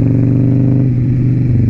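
A Harley-Davidson Sportster 1200 running loud and close, a steady throbbing V-twin rumble with a slight dip in pitch partway through, with no talking.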